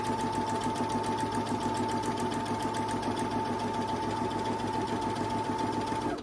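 A sewing machine runs steadily, back-stitching along a pillowcase, its rapid needle clatter continuous and close for about six seconds before stopping abruptly at the end.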